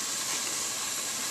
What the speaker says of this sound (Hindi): बॉयल उबल रहा है